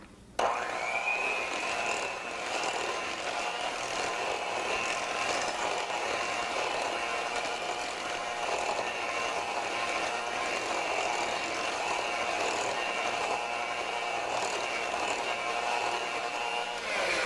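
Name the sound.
beating sweet potato casserole mixture until smooth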